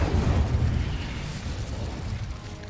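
The Incendio fire spell is cast in the Hogwarts Legacy video game, releasing a dense roaring burst of flame that rumbles low and loud, then tapers slightly over a few seconds.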